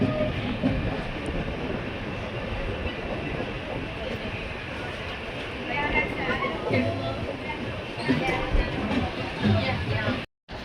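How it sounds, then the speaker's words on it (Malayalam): Superfast sleeper train 22659 rolls into Shoranur Junction, a broad, steady rumble of wheels and carriages close by, continuous throughout before cutting out abruptly at the end. "ട്രെയിൻ അങ്ങനെ ഷൊർണൂർ ജംഗ്ഷൻ റെയിൽവേ സ്റ്റേഷനിലേക്ക് എത്തിയിരിക്കുകയാണ്"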